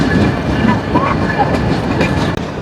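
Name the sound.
Jahanabad Express train arriving, pulled by double 613-series locomotive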